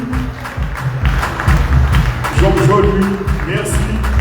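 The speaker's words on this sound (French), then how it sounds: "On l'applaudit très fort." An audience at a reception honouring athletes applauds in an uneven wave of clapping, with talking over parts of it.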